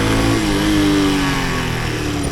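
Honda C110X Super Cub motorcycle, a high-mileage semi-automatic bike with broken mirrors, engine running steadily and loud as it rides off, with a continuous droning tone and no voices.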